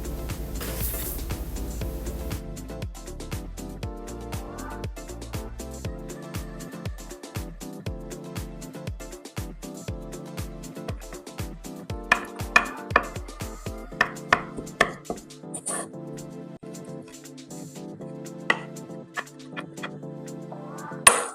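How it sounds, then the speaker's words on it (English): A knife chopping parsley on a cutting board, with a steady run of close, even thuds over a faint background hum. The strokes turn sparser and more irregular toward the end. "And then chop our parsley."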